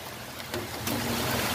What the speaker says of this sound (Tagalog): Ayan, ulan na. Lumakas na yung ulan mga kadyang.